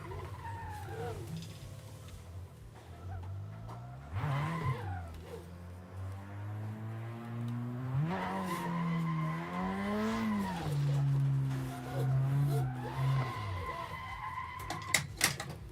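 Drift car being clutch kicked in practice: the engine revs rise and fall in long sweeping pitches, with tires squealing and skidding loudly through the slides, the car close and continuous throughout.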